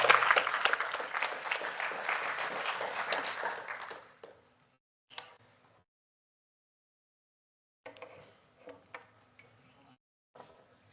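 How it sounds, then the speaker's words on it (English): Meetup audience applause after a talk: a burst of many hands clapping that fades out after about four seconds, followed by quiet gaps with a few faint scattered claps and small room noises. "Give them an applause"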